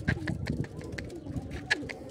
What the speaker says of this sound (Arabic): اطلع هذا الفرخ اطلع قمري